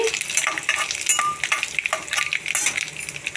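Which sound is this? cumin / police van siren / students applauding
cumin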